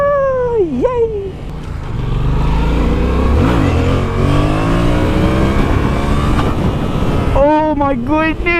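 Yamaha FZ-07 motorcycle with ABS revs hard through a wheelie, engine pitch climbing and falling in loud rising sweeps, with wind rush and a voice talking at the start and end.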